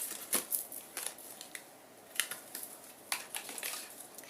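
A tarot card deck is shuffled up close, giving quiet, crisp riffling and slapping bursts in short irregular clusters with soft pauses between.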